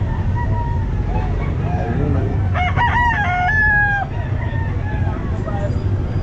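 A round head sweater gamefowl rooster, 8 to 9 months old, crows once at a busy pet market, its call rising and holding for over a second over steady engine rumble and crowd noise, with people talking.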